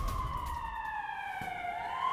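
A wailing siren sweeps up and down steadily as a sound effect in a news broadcast about Russian air defence activity in Crimea, loud and continuous over low background rumble, with no talking.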